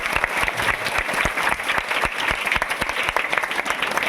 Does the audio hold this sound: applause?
yes